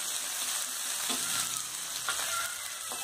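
Urad dal and curry leaves fry in hot oil for a spicy garlic chutney, giving a constant close sizzle with a few soft stirring scrapes and no voices.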